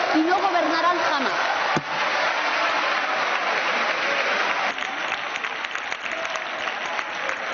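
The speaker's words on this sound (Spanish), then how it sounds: "Hacía mucho que no lo aplaudían así a Yolanda Díaz." Lawmakers in the Spanish parliament break into sustained applause for Yolanda Díaz, a broad continuous roar of clapping from a large chamber with a voice briefly heard at the start.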